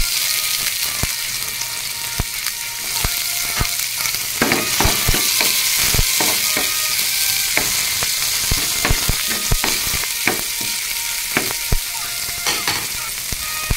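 Onion sautéing in a pan with garlic for a sautéed eggplant dish, a loud close sizzle punctuated by frequent sharp spatula scrapes and taps in an irregular rhythm.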